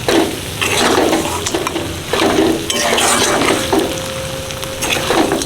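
Mutton being stir-fried into kosha in a pan, with steady loud sizzling and repeated scraping and stirring strokes of a utensil against the pan.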